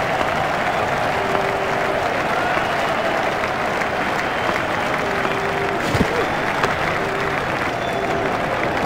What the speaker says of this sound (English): The crowd really enjoyed that shot.